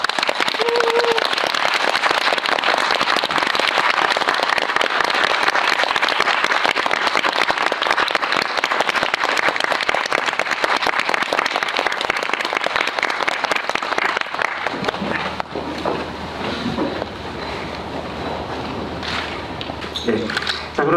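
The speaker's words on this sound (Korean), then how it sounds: "큰 박수로 맞이해 주시죠." A large audience claps loudly to welcome a film director and actors at a screening Q&A, dense steady applause for about fifteen seconds before fading to scattered claps and light murmuring.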